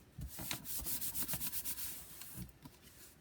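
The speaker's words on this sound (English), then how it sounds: "hands are great burnishing tools" Hands rubbing over paper to burnish it, a series of quick, soft, dry strokes in an even rhythm, close and fairly quiet, with no voices.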